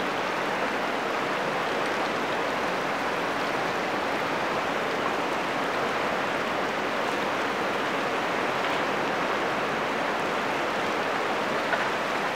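The fast, deep Ganga river flows in a steady, broad rushing wash, constant and even throughout with no voices.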